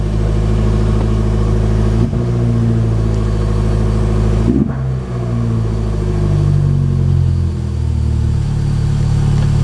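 An Abarth X1/9 engine runs steadily with a deep, throaty exhaust note, close and loud, shifting pitch slightly around a brief blip of throttle midway, with no talking.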